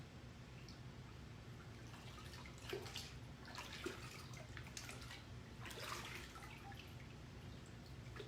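Marbled fabric drips into a water rinse bucket, giving faint, scattered trickles and drops over a low steady background hum.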